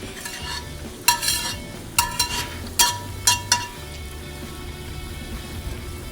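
Egg fried rice being stir-fried in a pan at home, with a soft steady sizzle broken by several sharp scraping and clinking strokes of a utensil against the pan in a short burst.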